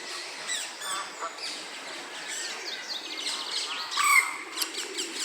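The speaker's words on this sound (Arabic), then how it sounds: "كتسمعوا الاصوات، جميع انواع الطيور" Geese honk and many other birds call in a bird park in Düsseldorf, Germany, a busy, overlapping chorus of honks and chirps at moderate distance, with one louder burst of honking near the end.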